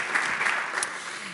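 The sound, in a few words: applause for farmers and livestock breeders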